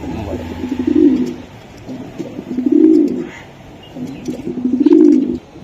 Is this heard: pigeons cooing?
yes